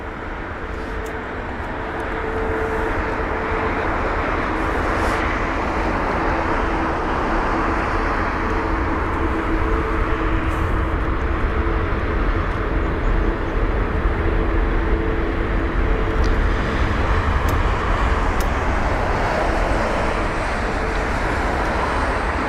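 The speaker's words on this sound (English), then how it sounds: "Here it is, the A350-1000." An Airbus A350-1000 passes at London Heathrow, a broad steady engine roar that builds early and holds loud and sustained, with faint tonal whines and distant ambient noise around it.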